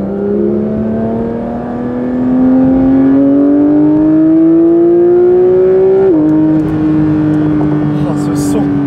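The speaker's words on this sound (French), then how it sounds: "Oh ce son, le flat 6 Atmo." Porsche 911 GT3 with a naturally aspirated flat-six engine pulling hard from inside the car, a loud rising drone that climbs steadily, then drops sharply at a gear change and carries on at a lower pitch.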